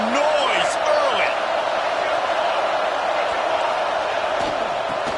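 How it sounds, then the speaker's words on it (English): Football stadium crowd noise, a steady loud wash of many voices filling the stands early in the game, with scattered whoops and a few brief sharp accents. "This crowd bringing the energy and noise early."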